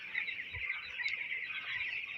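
A large flock of broiler chickens fills a farm shed with a constant high chorus of chirps and clucks, moderately loud and unbroken, with a few soft low thumps underneath.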